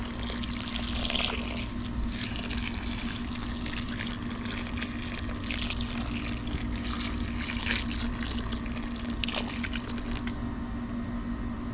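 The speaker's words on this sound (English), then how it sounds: "we're going to add water." Water poured steadily onto broken-up coco coir bedding while building a worm bin: a continuous close splashing and trickling that runs unbroken for about twelve seconds, with no talk.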